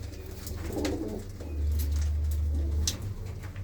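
Pigeons kept in a backyard loft coo in low, rolling phrases, fairly close and steady, with a few faint chirps and rustles around them.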